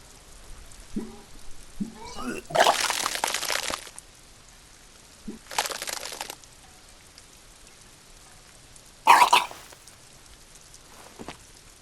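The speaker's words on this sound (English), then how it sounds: "Your body curls and pushes it out, burst by burst, until a pool of vomit lies under your feet" A vomiting sound effect in the detective role-playing game Disco Elysium, three loud splashing, gushing bursts separated by pauses, each preceded by faint retching gurgles, with a softer spatter at the end.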